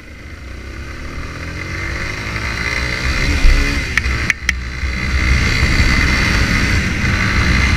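A Yamaha Fazer 250 cc motorcycle engine drones while riding, revving up through rising gear pitches with a brief throttle blip midway, steady and close.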